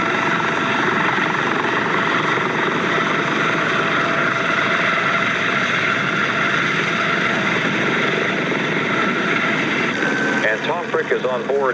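On board a news helicopter in flight, a loud, steady rotor and engine drone fills the cabin throughout, with a voice briefly heard toward the end.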